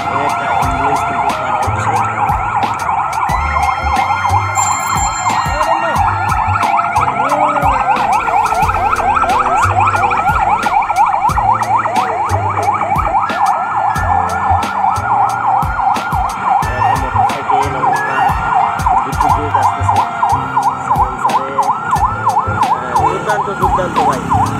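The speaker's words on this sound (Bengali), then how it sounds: "একটা অ্যাম্বুলেন্স কিন্তু" A loud ambulance siren wails continuously and close by in rain-flooded Dhaka street traffic near Dhaka Medical, with rapid pulsing tones and clicking running through the whole stretch.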